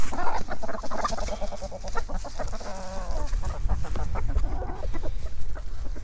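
A flock of backyard chickens clucks and chatters busily as they are let out of their coop, a dense, continuous close-up chorus of overlapping clucks and squawks.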